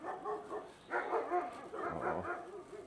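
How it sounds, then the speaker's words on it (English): Countryside dogs in rural northern Vietnam bark and yip in faint, scattered bursts from some distance, with low ambient outdoor noise around them. "I hope they're not mad dogs. There's a dog too. Countryside dogs."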